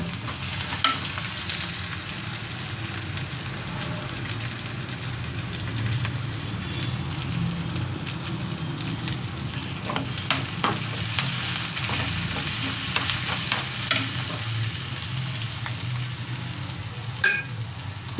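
Chopped garlic sizzles in a hot pan beside a home kitchen stove, a steady crackling hiss with scattered pops and stirring scrapes, close and moderately loud with no voices.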